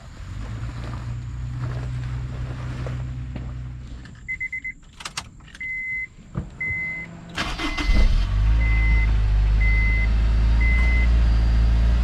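A Honda S2K car drives with a steady low engine rumble and road noise, broken midway by clunks and a series of evenly spaced electronic chime beeps, before the engine note swells louder.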